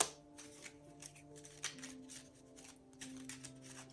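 Tarot or oracle cards, Celtic Ogham divination cards, are shuffled by hand in a quiet room, giving soft riffling and slapping bursts in an uneven rhythm, close and faint, over a low steady background hum.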